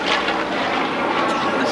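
A Corsair fighter plane roars past at high speed at the Sussex County Airshow, a loud, dense engine rush that fills the whole moment without letting up.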